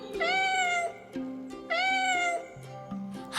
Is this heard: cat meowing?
yes